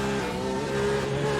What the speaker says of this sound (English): No speed, revs dropping. Yep, definitely out of fuel.